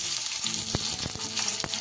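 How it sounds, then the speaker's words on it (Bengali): Onions sizzle in hot ghee in a pan, a constant close hiss of frying broken by a few soft stirring scrapes. "পেঁয়াজটা আমি খুব ভালো করে ভেজে নেব, মোটামুটি লাল লাল না হওয়া পর্যন্ত"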